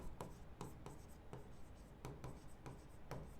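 A pen scratches out an account entry on paper in a quiet room, with rhythmic strokes and taps close by at a steady pace and nobody talking.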